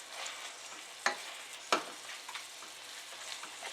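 Meat browns in a frying pan with a soft, steady sizzle, broken by two sharp scraping stirs partway through and a few lighter utensil sounds, close and fairly quiet.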